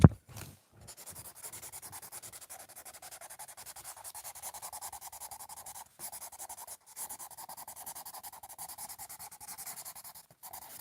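A colourless blender pencil rubs over paper while colouring a tarot card, a soft continuous scratchy swish with steady strokes, close and quiet, with a few brief pauses.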